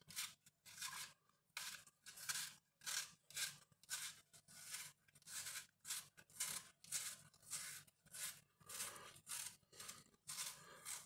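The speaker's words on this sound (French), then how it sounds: "Alors, on va éplucher les pommes." Apples peeled by hand with a vegetable peeler for an apple and cinnamon tart, steady repeated soft rasping strokes about once a second, close but quiet, with no voices.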